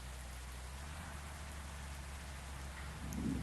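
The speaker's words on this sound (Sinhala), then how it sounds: "වැස්සවත් වහිනවා" Steady rain falls outdoors on a trip to hill-ringed ponds and caves, a soft continuous hiss with a low rumble underneath, faint and even, without voices.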